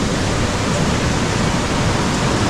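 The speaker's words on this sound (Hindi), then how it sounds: "पानी का जो लेवल है, पानी का जो वाटर फ्लो है बहुत ही स्ट्रॉन्ग है" Nanemachi Waterfall in strong flow, a loud, steady, close roar of heavily rushing water that fills the whole moment without any break or voices.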